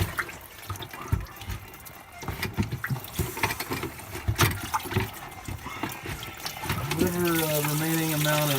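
Leftover coolant drains from the hoses of a 2005 Ford F150 with the 5.4 engine, a continuous trickling and splashing of liquid with scattered clanks, growing steadier and louder toward the end.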